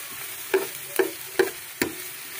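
Garlic and onion sautéing in a pan, stirred with a ladle in four spaced scrapes over a faint, steady sizzle, close and fairly quiet.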